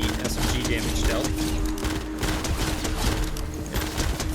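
SMG fire in Fortnite Save the World, dense rapid bursts of gunshots running steadily throughout, fairly loud and busy with game noise around them.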